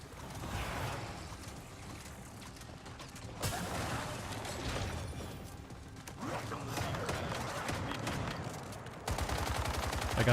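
Shotgun fire in Once Human comes through as repeated gunshots amid rumbling game noise and clatter, growing sharper and denser toward the end.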